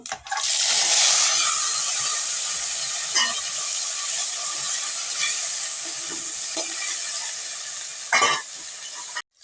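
Taro leaves dropped into hot oil with panch phoron, a loud steady frying hiss and sizzle with stirring scrapes, a brief burst near the start and another clatter near the end, no talking.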